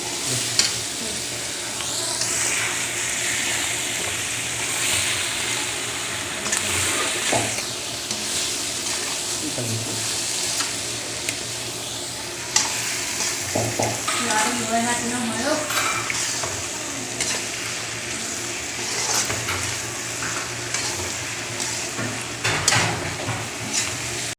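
Broiler duck meat frying in hot oil on a gas stove at medium flame, a steady close sizzle with repeated scraping and clinking as a spatula stirs the pot, and occasional louder knocks against the pan.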